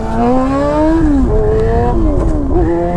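A Yamaha XJ6 motorcycle engine revs loudly and steadily up close, its pitch rising and dipping with a couple of throttle blips, with no talk over it.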